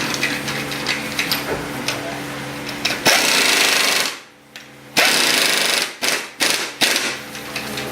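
An impact tool tightens lug nuts with a 19mm socket on a 2011 Ford Fusion, giving loud rattling bursts with short gaps between them.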